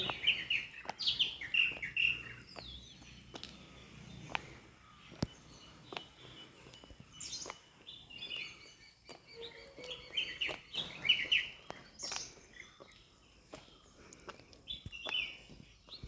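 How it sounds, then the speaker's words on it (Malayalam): Birds chirp and tweet near a temple among bamboo groves, repeated bright calls at moderate distance over a quiet outdoor background, with no voices. "അപ്പോൾ അവിടെ ഇങ്ങനെ മുളങ്കാടുകൾ ഇങ്ങനെ നിൽപ്പുണ്ട് നല്ല കിളികളുടെ ശബ്ദം കേട്ടോ"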